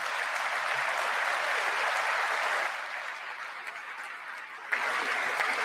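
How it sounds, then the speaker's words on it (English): An audience applauding steadily in a room, dense even clapping that dips slightly midway and then swells again, no speech over it. "While they're clapping"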